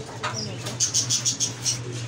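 Birds in a neighborhood bird shop, with several short bright chirps in quick succession and soft cooing over a low indoor hum, close and moderately loud.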